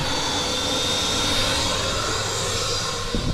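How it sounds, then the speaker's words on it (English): A vacuum cleaner drones steadily inside a boat under repair at a marina, a loud, continuous broadband whine with a faint high tone and no breaks. "vacuuming away"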